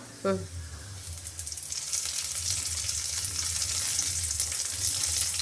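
Curry leaves tempering in hot oil for kadala curry, an opening quick clatter followed by a steady hissing sizzle that swells and holds, with stirring, close and moderately loud.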